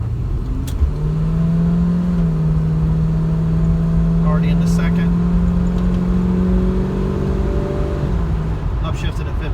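An early F-body Chevrolet Camaro with a carburetor that needs cleaning is driven over choppy pavement under throttle, its engine droning loud and close with a steady rising tone and road noise filling the whole stretch.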